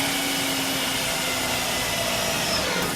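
A power drill bores holes into the body of a junkyard Datsun 280ZX to fit fender flares, making a steady, fairly quiet whirring whine that runs without a break.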